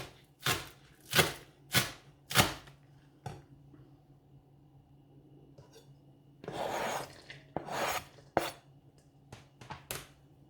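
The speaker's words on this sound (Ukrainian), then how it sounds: "а пера поріжу і теж добавлю до глибокої тарілки" Sharp knife chops green onion against a board: four quick, evenly spaced strikes, a pause, then a brief scraping sweep and a few more scattered chops, close up.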